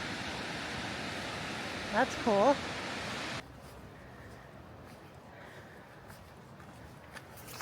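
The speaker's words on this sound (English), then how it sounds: "Oh, whoa, there's a waterfall." Waterfall in North Cascades National Park, a steady broadband rush of falling water that cuts off abruptly partway through, with a brief spoken remark over it.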